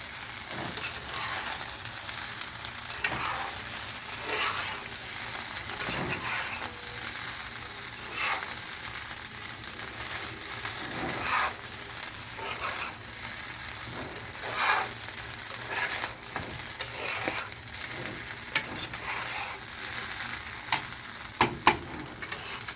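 Fried rice with sauce is stir-fried in a pan, giving a steady sizzle broken by repeated scraping and stirring strokes. It sounds close and runs continuously for the whole stretch, with no talking.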